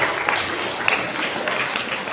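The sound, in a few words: classroom applause for a student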